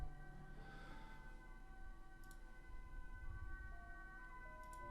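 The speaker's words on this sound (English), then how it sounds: "I think you can hear the ambulance or the police." An ambulance or police siren wails faintly across the city, a distant rising-and-falling tone thinly layered over a low urban hum, with no voices.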